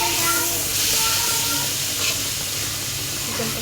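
Chicken pieces hit a hot pan with spices, frying in a loud steady sizzle and hiss, with faint stirring scrapes throughout.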